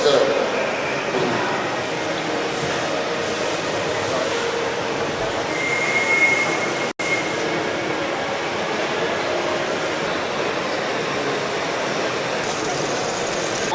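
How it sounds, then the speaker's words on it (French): TGV La Poste postal train, a bicurrent set with two power cars and eight postal trailers, running past as a steady, loud, continuous rolling roar with faint voices underneath. "La motrice est un TGV donc bicourant avec 2 motrices et 8 remorques postales"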